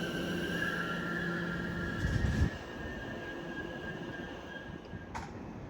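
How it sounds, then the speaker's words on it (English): Greater Anglia passenger train pulling into Cambridge North station, a steady rumble of wheels with a sustained squealing whine, a brief louder clatter midway and a faint chime near the end, heard from the platform. "Arriving now is the 1525 Great Anglia service to Norwich from Stansted Airport."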